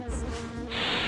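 Yellow jackets buzzing close by, a steady droning hum that swells louder near the end.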